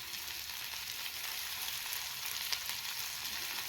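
Sliced onions and capsicum fry in a small amount of oil in a home kitchen, a soft, continuous sizzle with faint crackles and no voices.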